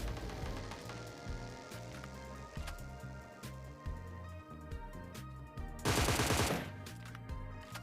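Gunfire in a solo-versus-squad shooter video game, with rapid bursts of automatic fire and sharp shots crackling throughout and a dense roar of sustained minigun cover fire partway through.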